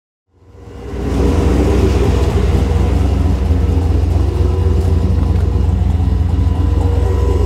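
A used OBS Chevy truck with a turbocharged LS engine and six-speed, running on E85, fires up and pulls away, its deep, loud engine rumble holding steady and close throughout.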